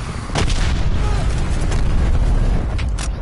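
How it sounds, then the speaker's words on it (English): In the Call of Duty Cold War video game, a cruise missile strike sends out a loud, sustained rumbling blast. Sharp bursts pop through the roar over about three seconds. "Enemy cruise missile launch detected."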